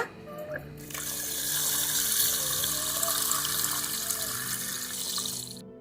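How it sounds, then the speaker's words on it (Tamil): Steady splashing stream of water pouring into a bowl of cut taro pieces, close and continuous for several seconds before stopping abruptly. "தண்ணி ஊற்றிக்கலாங்க இப்போ"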